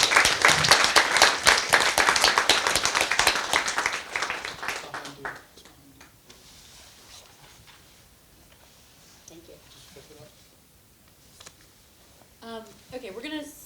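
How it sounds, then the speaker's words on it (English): Loud audience applause at a book event for a talk on poverty, dense clapping that fades over about five seconds, followed by quiet room noise and the start of speech. "Please join me in giving them a big round of applause."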